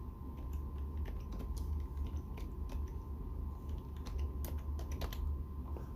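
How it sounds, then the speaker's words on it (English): Steady computer keyboard typing, a run of quick close key clicks over a low constant background hum, with no voices. "And type in Rudy."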